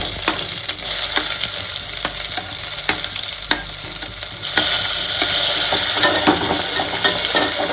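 Onions frying in oil for a Kanchipuram-style curd curry, a steady close sizzle with sharp stirring scrapes throughout, growing louder and denser about halfway through.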